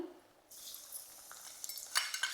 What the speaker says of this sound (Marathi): कढईत आपण तेल ओतूया तेल तापलंय सगळ्यात पहिल्यांदा आपल्याला टाकायचे लसूण